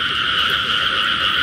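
Dense chorus of frogs croaking in a field at night, loud, close and unbroken, a constant trilling wall of calls with no voices.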